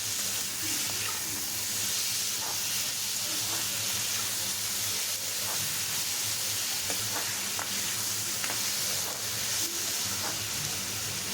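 Tomatoes and dried red chillies with salt sauté in a pan over a medium flame for chutney, giving a steady, moderate sizzle with occasional soft spatula scrapes and taps throughout.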